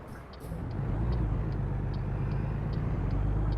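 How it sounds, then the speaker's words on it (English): Truck air brakes in the American Truck Simulator game give a short hiss at the start, then a steady loud engine rumble and road drone take over, with a faint repeating high tick running through it and nobody talking. "Love the air brakes in these. As you can hear them."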